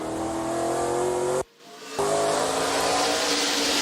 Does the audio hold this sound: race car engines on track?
yes